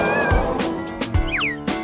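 A kitten meows in short, high, rising-and-falling cries, several in under two seconds, fairly close and clear against a soft indoor background.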